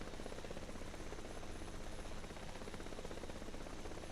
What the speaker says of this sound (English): See, helicopters is meant for flying, but not very high.